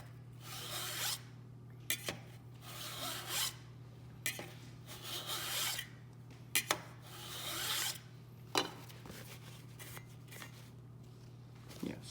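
Card scraper edge being honed with repeated swipes, giving a series of brief raspy strokes in bursts over a steady low background hum, with no talking.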